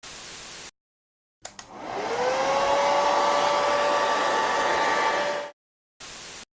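Heat blower warming an iPhone 6 skin to soften it: a click, then a steady close whooshing roar that runs for a few seconds before cutting off abruptly.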